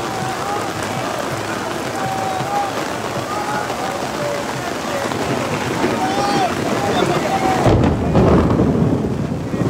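Heavy night rain pours steadily at an outdoor street protest during a thunderstorm, a dense continuous hiss with a deep thunder rumble near the end, and voices faintly in the background.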